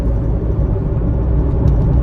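Car engine accelerating gently while the car rolls down a hill, a steady loud low rumble and whir heard close up from inside, with no voices.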